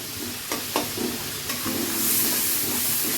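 Tomato and ginger paste fry in a pan for a vegetarian potol posinda, making a steady close sizzle broken by a few scraping stirs, with no voices.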